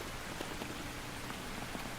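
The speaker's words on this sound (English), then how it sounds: "It is raining." Steady rain falls in the cozy Lord of the Rings life game Tales of the Shire, a dense, even hiss of drops on surfaces filling the whole scene without pause.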